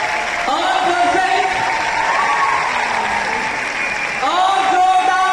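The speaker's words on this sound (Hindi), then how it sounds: "उधार वाले में ज्यादा टाइम तक लंबा देर तक तो ताली बजाना" A large audience in Babu Sabhagar hall in Patna claps at length, dense and sustained applause with scattered whoops, while a voice speaks over it.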